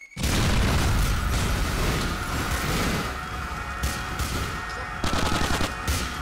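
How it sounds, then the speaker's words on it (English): Explosions and gunfire in the video game GTA IV: a dense, loud barrage of booms, crashes and rapid shots that keeps rumbling for several seconds, with fresh blasts near the end. "It's going to be a lot of explosions this time."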